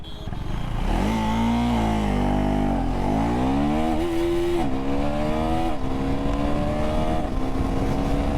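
A 2024 KTM Duke 390 motorcycle launching hard under manual launch control, its engine note climbing steeply through several quick gear changes, loud and close throughout.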